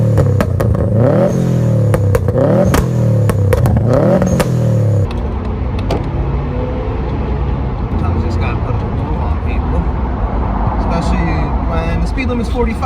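Engine of a 2002 Subaru Impreza WRX "Bug Eye" revving hard with repeated rising and falling sweeps, then settling into a steady, loud driving drone with road noise.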